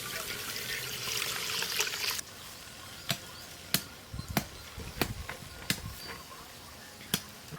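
Milk poured into a pot to make palm fruit (ice apple) kheer: a steady liquid rush for about two seconds, then scattered sharp clicks and knocks, with no talking.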